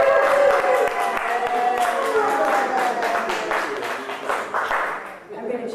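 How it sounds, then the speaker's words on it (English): An audience at a poetry and prose reading applauds in a sustained, dense patter of hand claps, with voices mixed in beneath the clapping. "I'm going to join in the applause."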